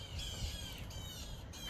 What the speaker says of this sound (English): Oh, there's a big bird. There's a big bird.